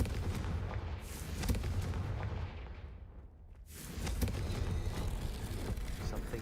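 A Confringo fire spell blast in Hogwarts Legacy, a heavy booming burst with rumbling explosive crackle that fades briefly and then surges again, loud and close, with no voices.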